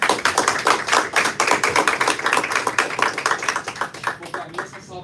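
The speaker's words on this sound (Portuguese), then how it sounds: "Vamos dar uma salva de palmas para Jesus?" Church congregation applauding for Jesus, a dense, sustained round of clapping from many hands with no pause, heard close and lively throughout.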